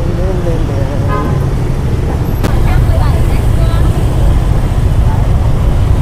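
Dense night traffic of motorbikes and cars on Bui Vien Street in Saigon, a close steady engine rumble with a few horn toots, a person talking over it.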